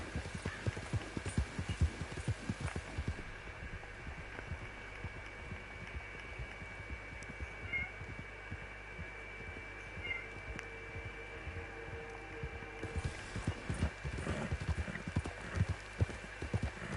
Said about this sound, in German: Jetzt reiten wir wieder da runter.